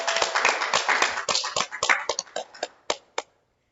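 A few scattered claps at an Al-Anon 12 step study meeting, fading to a handful of separate taps and stopping after about three seconds, close and fairly loud.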